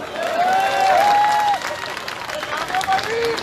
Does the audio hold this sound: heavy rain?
no